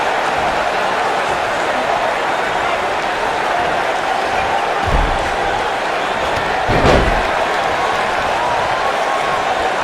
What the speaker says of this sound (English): Oh, and scoop slam! Boom, what impact!